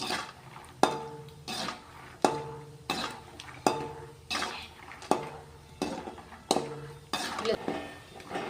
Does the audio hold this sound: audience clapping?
no